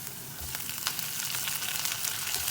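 Garlic and onion sauté sizzle steadily in a pan as chopped tomato goes in, a continuous close frying hiss with small crackles throughout and no talking.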